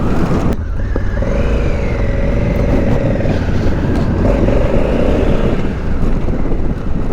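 2020 Honda Africa Twin adventure motorcycle engine revving and pulling hard under acceleration with traction and wheelie control switched off, loud and close with steady wind rush throughout.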